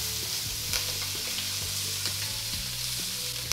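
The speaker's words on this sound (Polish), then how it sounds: "Chwilę podsmażam." Vegetables fry in a pot with a steady, close sizzle and crackle, broken by a few soft scrapes and clinks of stirring; no one speaks.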